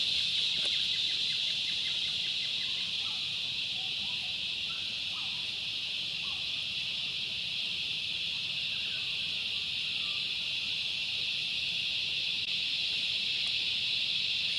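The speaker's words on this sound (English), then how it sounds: "those birds you can hear in the background, they're channel-billed cuckoos" Channel-billed cuckoos call faintly in the background of a freshly mowed yard, scattered distant cries over a constant loud high insect drone, with no voices.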